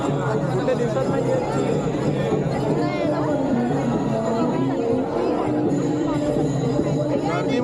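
A dense crowd mills about at a Malvani festival with spice stalls, a constant babble of many overlapping voices close around, with people talking nearby.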